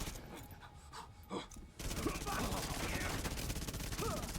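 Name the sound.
buffed SMG firing in video game The Division 2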